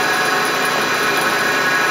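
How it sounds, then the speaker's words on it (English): Star SW7R Swiss-type lathe with its main spindle and guide bushing spinning, a steady loud broadband whirring hum with high machine whine, continuous and close, no talk. "this is the main spindle and guide bushing turning at"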